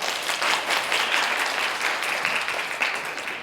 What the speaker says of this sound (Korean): 또 이렇게 만든 하성진 안무가에게 박수를 한번 부탁드리겠습니다